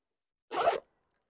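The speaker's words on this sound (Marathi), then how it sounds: "ह्याच्या आतमध्ये झिप दिलेली आहे." A single quick zip pulled along the inner zipper of a Zouk leather sling bag, close and crisp, a short burst with no talking.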